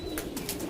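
Kalapeti, Kalasabuj and Aliola pigeons in a loft give soft, close coos and low murmurs over a faint steady background, with a few breathy bursts in quick succession.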